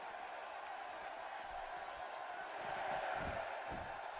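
A wrestling arena crowd in Orlando roars in approval, a steady dense wash of cheering that swells louder toward the end after a wrestler is sent through the barricade.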